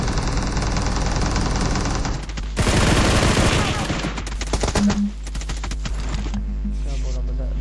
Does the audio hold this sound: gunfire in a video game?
yes